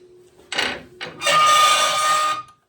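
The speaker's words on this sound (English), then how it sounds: "We'll try and do some sanding on the inside here" Abrasive sanding against the inside of a cedar bowl, close and loud, in two short bursts and then a longer steady rasping pass with a whirring tone underneath.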